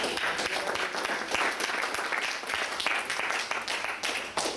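An audience at a fast food workers' minimum wage rally gives three speakers a sustained round of applause, with many hands clapping densely and evenly at a moderate distance.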